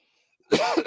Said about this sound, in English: Excuse me, folks. I don't mean to cough.